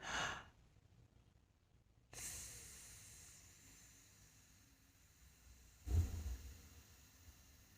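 A single audible inhale of airflow through the mouth, heard alone in a quiet room: a short breathy hiss near the start, a longer soft rush of air after a pause, and a brief low thump toward the end.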